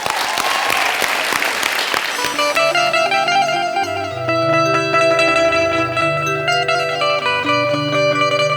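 Applause greets a guest judge on a Bhojpuri singing reality show stage, a burst of clapping at the start that gives way to loud music with deep bass notes.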